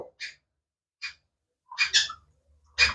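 Several short, shrill chirping calls from a yellow ringneck parakeet chick, close by, coming in separate bursts with brief silences between them.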